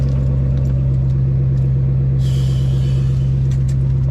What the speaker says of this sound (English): So I'm gonna let my car warm up.